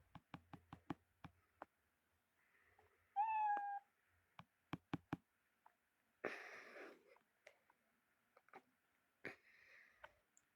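Cartoon cat meows from a Scratch programming project, several short sharp clicks and taps scattered around one clear rising meow, followed by a couple of breathy noisy bursts, quiet and spaced apart with no talk.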